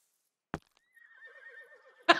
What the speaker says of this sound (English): Oh, there's horses here. Hello, horses.